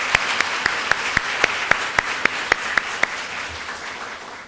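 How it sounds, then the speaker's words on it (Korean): A hall audience at the final of a university debate contest claps for a politics professor being introduced. The applause is steady and moderately loud, with sharp, regular individual claps standing out near the microphone. "힘찬 박수 부탁드립니다"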